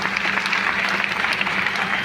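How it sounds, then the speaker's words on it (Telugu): An audience applauds at a lecture, giving brief, even clapping that stays at a moderate level throughout, with no speech over it. "ये ताली बजा के आपने भरत जी की इज्जत बचाई है।"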